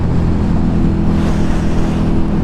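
A KTM 1290 Super Duke R motorcycle pulls hard in fifth gear, its engine a loud, continuous low rumbling drone with no break and no voices.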